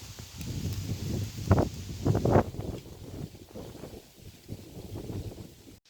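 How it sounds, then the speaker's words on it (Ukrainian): Strong wind rushes and buffets the microphone in uneven gusts beside a small pond, with rumbling low noise throughout and no clear talking. "Ну вітер сильний, а вода побутніла."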